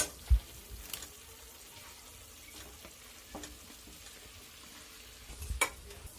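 Mint leaves fry in a pan for boti fry, a soft continuous sizzle broken by a few sharp stirring scrapes and clinks of a spoon against the pan, close and moderately quiet, with no talking.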